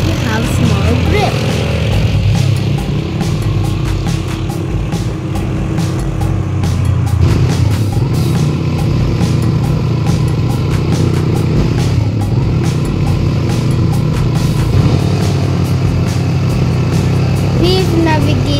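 A 200cc gas-powered ATV engine drives over rough trail terrain near Mt. Mayon, a steady loud motor drone that runs without a break from start to finish, close up, with no talk over it.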